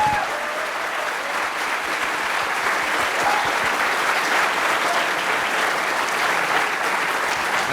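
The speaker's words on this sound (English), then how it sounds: "Guys, give him a cheer." A seated audience at an institute fireside chat with a CEO gives steady, dense applause that stays loud and even throughout, close and continuous with little audible cheering.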